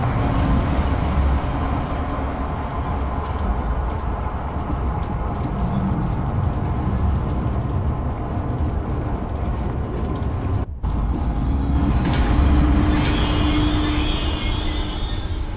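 A ride train in the zoo game Zoochosis rolls along steadily, a continuous rumbling engine-like drone with a brief dropout near the end before it resumes with faint whining tones.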